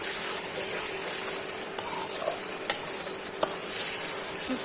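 Spice masala sautéed with whole garlic cloves in a pan for a dried fish mash, a faint, even sizzle with a few sharp clicks of stirring, no voices.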